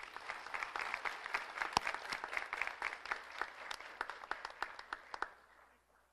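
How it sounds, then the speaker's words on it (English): A high school class night audience applauds the valedictorian, a dense wash of clapping with sharp individual claps that thins out and fades near the end. "Give him a round of applause."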